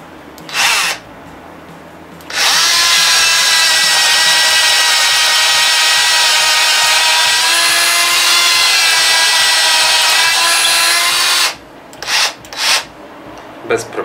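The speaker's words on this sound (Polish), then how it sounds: "Zawiercimy coś." A Parkside PKGA 20-Li A1 cordless 4-in-1 multi-tool fitted with a drill bit runs in a steady, loud whine for about nine seconds, bracketed by brief bursts and short spin-ups at start and end, with no talking.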